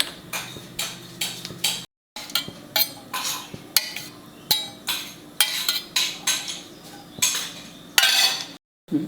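A pan is handled on a stove while seasoning for green mango chutney is prepared, giving a string of sharp metallic clinks and taps in an uneven rhythm, close and fairly loud, with brief silent gaps.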